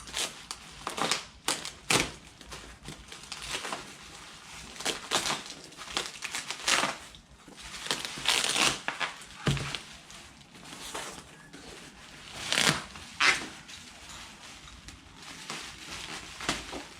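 Crinkling and crumpling of bubble wrap being pulled off motorcycle exhaust parts for a 2003 Kawasaki Z750 IXIL dual under-seat exhaust, in close, irregular bursts of rustle and crackle with no one talking.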